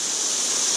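A waterfall pours steadily beside a river, a dense, even wash of falling water that stays loud and close without a break.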